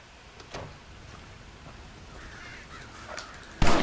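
Crows caw in Red Dead Redemption, a few faint calls over ambient game noise, then a sudden loud burst at the end.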